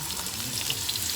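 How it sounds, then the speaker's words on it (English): Garlic sizzles steadily in a small pan coated with a little oil, a continuous close-up hiss of frying with no talk over it. "I like to sizzle it a little bit over a little pan with just a little coated oil"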